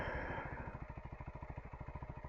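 A new off-road motorcycle engine runs at a steady idle, with a rhythmic, evenly pulsing thump and mechanical clatter, close and continuous throughout.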